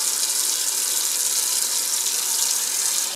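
Cool water pours steadily into a stainless steel pot for honeysuckle jelly, a loud, even, hissing gush that runs unbroken for about three seconds before cutting off abruptly.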